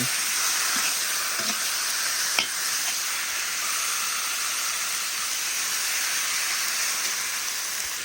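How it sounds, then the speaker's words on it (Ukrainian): Steady broadband hiss and sizzle of meat frying in a cauldron over a campfire, constant throughout with a few faint pops and clinks. "додаємо до м'ясо і смажуємо нього до золотого кольору"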